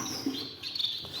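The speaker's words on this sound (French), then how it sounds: "Alors là, troisième couple de moineaux." Sparrows in an aviary nest give a few bright chirps close by, with short high tweets over a quiet background.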